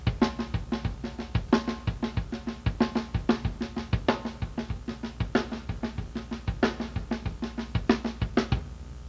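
Rock drum kit groove with steady bass drum kicks under a left-hand snare backbeat, with cymbal or hi-hat strokes filling a dense, even rhythm throughout.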